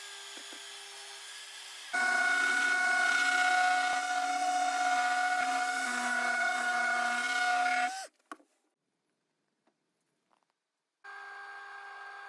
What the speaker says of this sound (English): Using the table saw, I trim the veneer flush with the rest of the workpiece.